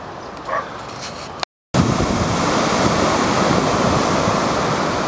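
Waves breaking over sandbars at Tallebudgera Creek, a broad continuous roar of surf with wind buffeting after a brief dropout, loud and close with no voices.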